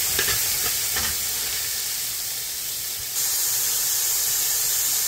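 Vegetables fry in a pan with caramelized onion and garlic for basil vegetable fried rice, a close, steady sizzling hiss with a few stirring clatters at first that grows louder partway through.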